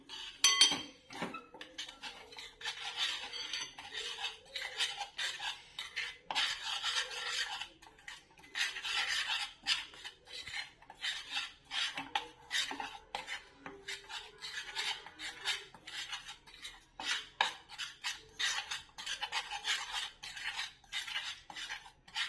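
Turmeric, cardamom and cinnamon powder mixed in a pan for winter ginger laddus, long stretches of repeated rasping and scraping of a metal spoon against the pan with occasional light clinks, steady and close.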